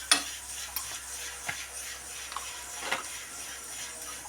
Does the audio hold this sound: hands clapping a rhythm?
no